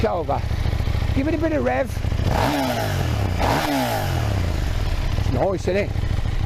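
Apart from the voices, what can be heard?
2022 KTM 890 Duke motorcycle engine revving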